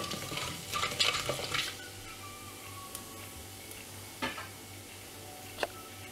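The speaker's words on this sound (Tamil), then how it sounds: "இப்போ சீரகமும் வெந்தயத்தையும் நல்லா ஃப்ரை பண்ணி விட்டுடலாம்" Cumin and fenugreek seeds frying in a clay pot for anchovy fish curry, a soft steady sizzle with a few scrapes and clinks of a spoon early on, then quieter frying with occasional sharp taps.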